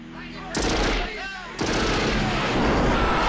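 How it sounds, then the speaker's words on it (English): Rockets fire in a space combat video game: two sharp, loud blasts about a second apart, each leaving a lingering rumbling roar. "Now that the setup was in place, it was time to fire some rockets"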